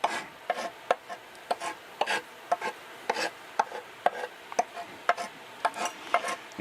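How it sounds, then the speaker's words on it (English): A rounded metal scraper is worked over the edge of a guitar body to relic it, giving repeated short rasping scrapes in an uneven rhythm, close up and fairly soft. "we've got this rounded over chisel, scraper, whatever you're going to call, and randomly we can put this in"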